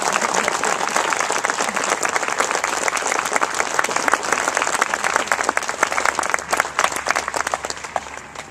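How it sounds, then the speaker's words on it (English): Sustained crowd applause at a military parade pass in review and oath of enlistment ceremony, dense steady clapping from a large audience holding level throughout, with no talk over it. "So let's give them a big round of applause as well."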